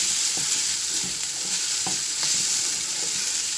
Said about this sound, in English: you're kind of committed to standing here and stirring for a little bit